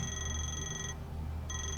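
A phone rings in the video game Moons of Madness: a bright electronic tone sounds, cuts off for about half a second, then starts again, heard clearly against quiet background hum.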